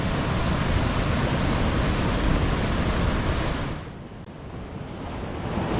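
Ocean surf rolling in at Dry Lagoon, California, as the tide comes in: a steady loud wash of breaking waves that briefly eases and then swells again, with wind rush on the microphone and no voices.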